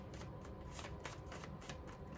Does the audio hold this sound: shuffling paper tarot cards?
yes